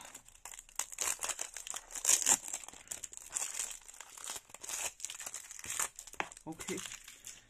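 A package holding a live centipede is torn and unwrapped by hand. Crinkly plastic and paper rustle in uneven bursts close up, while a person talks quietly over it.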